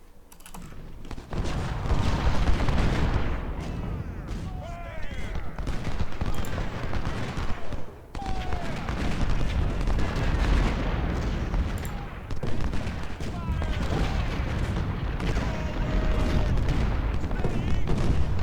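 24-pounder cannons firing in the Civil War strategy game Ultimate General: Civil War, repeated booms and crackling musketry forming a dense, continuous battle roar, with someone talking over it.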